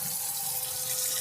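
Steady rush of water from a camper van pump running into a small sink, continuous and close with no pauses.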